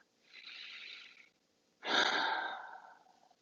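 A person takes a deep breath in a quiet room during a calm guided reflection, with a soft steady inhale followed by a louder, fuller exhale that fades out, close and alone.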